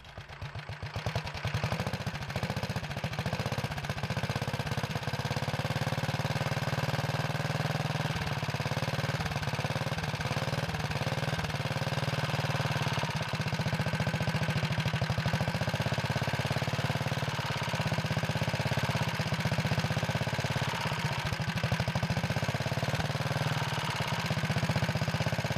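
A Kohler engine on a Wheel Horse Model 401 garden tractor idles steadily and loudly up close, a constant mid-pitched drone with a slight rhythmic clatter throughout, no voices.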